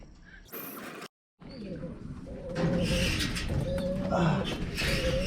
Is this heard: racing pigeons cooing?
yes